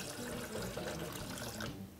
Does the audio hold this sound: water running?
yes